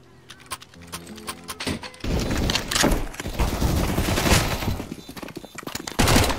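Gunfire in the first-person shooter CS:GO: sparse sharp shots at first, then a loud, dense stretch of rapid overlapping shots and bursts with brief pauses, ending in another heavy volley.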